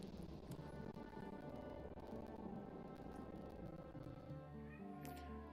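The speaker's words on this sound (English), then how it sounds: "Or are you just gonna meow at me?" A house cat meows at someone indoors during a gaming session, the call rising clearly over a steady, dense background hum of game music and ambient noise.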